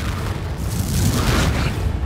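Confringo, a fire explosion spell in Hogwarts Legacy, sets off a sustained low, rumbling blast with crackling noise that fills the whole moment, loud and close.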